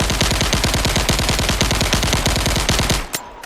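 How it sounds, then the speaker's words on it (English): A full-auto weapon fires while aiming down sights in an Unreal Engine 5 shooter, a loud, fast, unbroken stream of shots for about three seconds that cuts off abruptly, leaving a brief tail. "if we pick our full auto weapon and we aim down sight"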